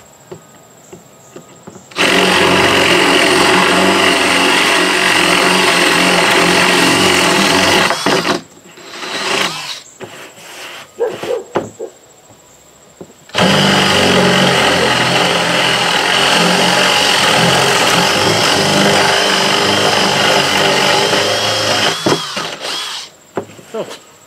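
A power drill bores holes in a golf cart seat in two long, loud, steady bursts of whirring, separated by short pauses with brief stop-start revs.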